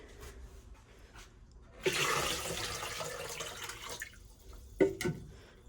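Water gushes and pours for a couple of seconds into an ultrasonic cleaner, then stops, followed by a few clinks and drips.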